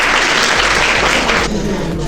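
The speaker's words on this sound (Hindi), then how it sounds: "इनके लिए जोरदार तालियां बजाइए।" A student audience at a school quiz competition claps loudly for a contestant who answered correctly, a brief, dense burst of applause close by.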